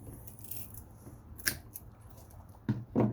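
Pliers cutting through copper, giving sharp snipping clicks spaced irregularly, with a crisp snap near the middle and two louder crunches close together at the end, recorded close up.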